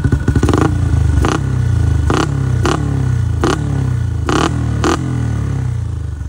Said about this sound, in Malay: Dia dengar bunyi enjin.